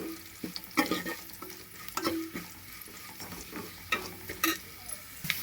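Onion and curry leaves frying in a pan, with bursts of sizzling and a spoon scraping and stirring at irregular intervals, close and moderately loud throughout.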